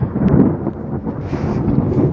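Thunder rumbling in the middle of a thunderstorm outdoors, a loud, continuous low roar with some rain and wind noise, no talking.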